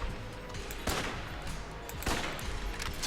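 Gunfire in the video game Enter the Gungeon, a dense crackle of rapid shots with a couple of heavier bursts standing out over a busy, moderately loud mix.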